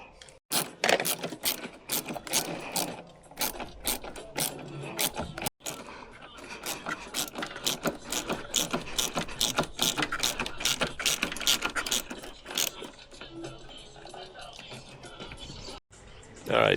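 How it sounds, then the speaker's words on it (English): Rapid ratchet clicks tightening the bottom bolt on a 1993 Mazda RX7 windshield wiper motor in a cramped spot, coming in repeated bursts of sharp close ticks with pauses between them, with some talk in the background. "now we'll get the bottom bolt in"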